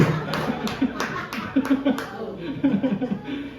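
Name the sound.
congregation clapping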